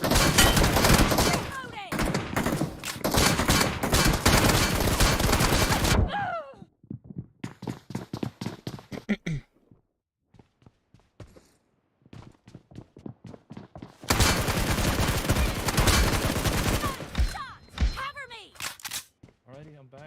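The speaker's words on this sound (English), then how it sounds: "Gunshot." Gunfire in the battle-royale game PUBG Mobile crackles as long, dense bursts of rapid shots, separated by quieter runs of single cracks and thuds that sound like footsteps, with loud volleys at the start and again near the end.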